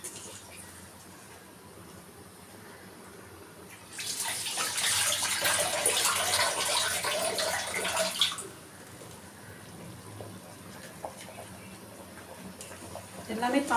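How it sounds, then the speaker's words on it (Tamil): Water pours steadily from a tap over rice in a pot to wash it while making prawn biryani, a loud rushing stream lasting about four seconds between quieter kitchen noise. "அரிசி கொட்டின உடனே தண்ணி ஊற்றி கழுவி வச்சுடுங்க"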